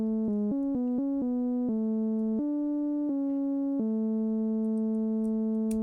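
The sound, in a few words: main middle line of a melody on the Serum synth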